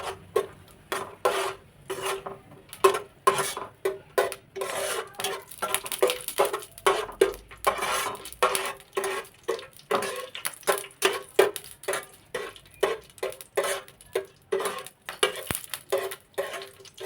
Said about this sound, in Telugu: ముందుగా డ్రై ఫ్రూట్స్ వేయించుకుందాం.